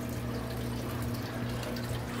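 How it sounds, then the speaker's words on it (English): A Tom's Aqua Lifter pump draws water from an aquarium sump, giving a steady close-up hum with a continuous rushing, watery hiss and no voices. "we have a Tom's Aqua Lifter, and it is drawing water"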